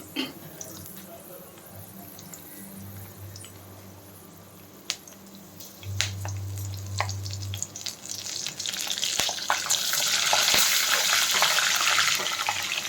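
Chana and green chillies dropped into hot oil in a pan while making suji upma, a sizzle that builds into a loud, steady hiss toward the end, with someone speaking over parts of it.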